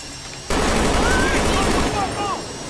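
Gunshots in GTA 5, a sudden loud burst of rapid continuous firing that cuts in after a quiet start and keeps going for about two seconds before easing off.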